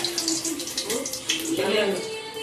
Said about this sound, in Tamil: நல்லெண்ணெய் ஊற்றிருக்கு